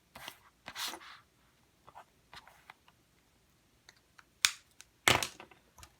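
Gel pen nib scratching across paper in a few short separate strokes, close and quiet, with brief soft scribbles between near-silent pauses.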